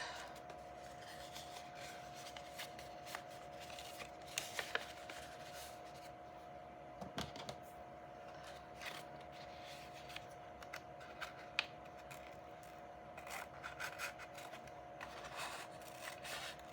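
Scissors cutting a folded paper book page, faint close snipping and rustling with scattered small clicks over a low steady background hum.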